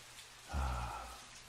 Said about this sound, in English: And now some calming, soothing rain.